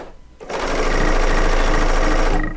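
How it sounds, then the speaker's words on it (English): A serger sews down a strip on a pieced quilt top, a loud, close, rapid mechanical whir that starts abruptly and runs continuously for a couple of seconds before easing off. "once I get this strip sewn on"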